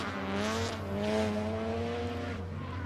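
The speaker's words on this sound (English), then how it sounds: "He's already lit the tyres up. The big V8." A big V8 drift car spins its tyres at Queensland Raceway during a drift series round, with a sustained engine roar and some tyre noise heard from a distance at moderate volume.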